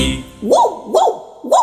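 A children's song voice imitates a dog barking with three evenly spaced, loud, close woofs.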